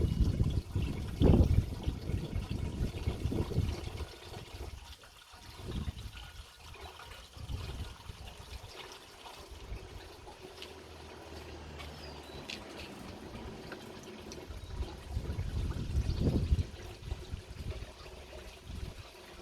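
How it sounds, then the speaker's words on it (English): Plain water is poured through the cooling system of a Ford Granada 2.8 during a coolant change, a faint, continuous trickle and splash with a few louder gurgling bursts. "I might as well just chuck some water through it."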